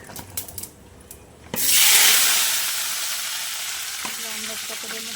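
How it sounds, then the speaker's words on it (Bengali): Pieces of hog plum (amra) hit hot oil with cumin seeds already tempering, a sudden loud sizzle that bursts up and then settles into steady frying hiss with a few stirring knocks. "এবার আমড়াটা আমি তেলের মধ্যে দিয়ে দেবো।"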